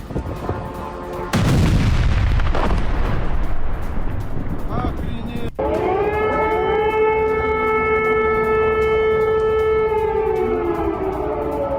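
Russian air defense systems fire over Kazan after a drone attack, with a loud boom and rumbling blast early on, another sharp crack midway, then a wailing air-raid siren rising and holding.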